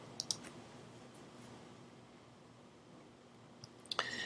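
A computer mouse clicks a few times, sharp and close: a quick pair near the start and a small cluster near the end, with quiet room hiss in between.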